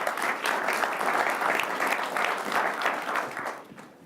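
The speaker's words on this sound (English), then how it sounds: "Big round of applause to our today's panel." Sustained audience applause for a panel at a conference session, dense steady clapping from a crowd that holds for several seconds before tapering off near the end.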